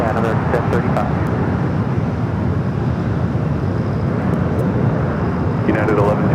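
Steady, loud, close jet roar of an airliner landing at LAX on runway 25 left, a continuous broadband rumble, while radio chatter plays over it.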